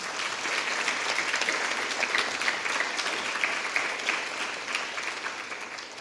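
An audience claps steadily through a community Decision Day event, a dense, even wash of many hands lasting several seconds and fading slightly at the end.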